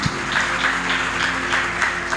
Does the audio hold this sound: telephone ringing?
no